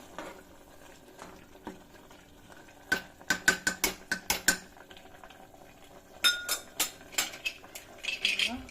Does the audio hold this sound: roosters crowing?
no